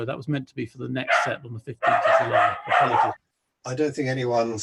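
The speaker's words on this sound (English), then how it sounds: "Sorry about my dogs." Dogs bark in the background of a remote full council meeting, brief yips and bow-wows mostly buried under continuous close speech from participants.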